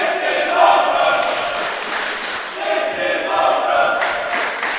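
A wrestling crowd at a live indoor show cheers and roars continuously, a loud sustained wash of voices that rises and swells in waves with scattered shouts.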